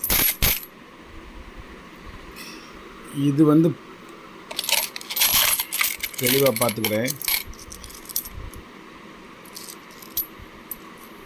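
Indian five rupee coins, including an uncirculated Acharya Tulsi commemorative coin, are dropped and handled, giving repeated sharp metallic clinks and a couple of brief ringing tones, with light talking in between.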